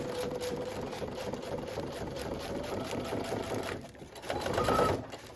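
Sewing machine stitching through clear vinyl for a stadium bag, a steady fast mechanical whir with rapid needle chatter that runs continuously, then briefly shifts and swells louder near the end as the stitch is finished.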